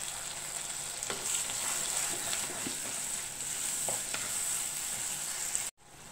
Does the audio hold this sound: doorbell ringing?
no